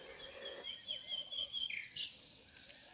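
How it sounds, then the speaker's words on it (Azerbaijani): Small birds sing in a village garden, repeated bright chirping phrases carrying over a quiet outdoor background, with several calls overlapping and a sharper burst near the end. "Quşlar cəhcəh vurur, nəğmə qoyur."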